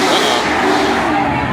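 Corvette engines rev loudly as show cars pull away from the Naples 5th Ave car show, a dense roaring blare close by with crowd noise and chatter mixed in.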